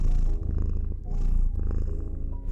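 A domestic cat purrs close up, a loud, steady rumbling that swells and dips with each breath across a couple of cycles, with no voices.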